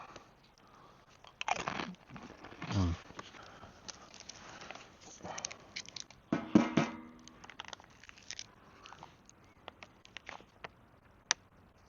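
Close, crisp crunching and chewing of tortilla chips with guacamole in a few bursts, with quiet woodland background between bites.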